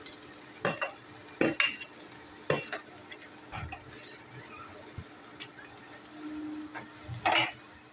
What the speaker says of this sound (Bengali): এবার আমি সবজিগুলো দিয়ে সমস্তটা ভালো করে নাড়িয়ে নেব।